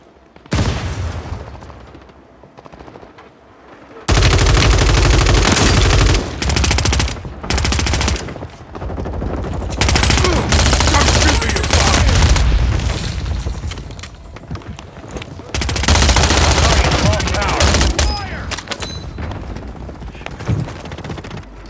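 Warzone 3 match audio carries loud, sustained automatic gunfire in long bursts with short gaps, heavy rattling shots close by and a faint intro before the shooting starts.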